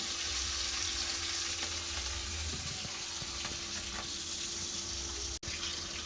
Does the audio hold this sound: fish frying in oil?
yes